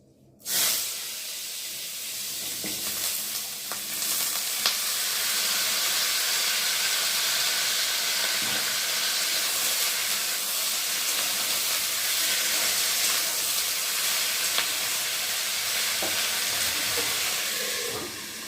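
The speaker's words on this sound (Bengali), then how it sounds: "তেলটা ভালো গরম হয়ে গেছে, আর এখন এই যে কেটে নিয়েছি সরু সরু করে, এখন আলুগুলো ভেজে নেব।" Thin-sliced potatoes drop into hot oil with a sudden burst, then a loud, even hiss of frying holds steady for the rest of the time, close by with faint clinks and no talk.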